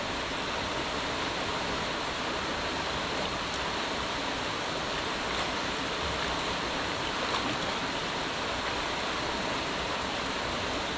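A river running full just after the 2024 rainy season gives a steady, continuous rush of flowing water, even and unbroken throughout with no voices.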